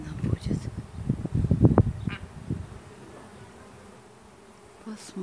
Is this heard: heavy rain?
no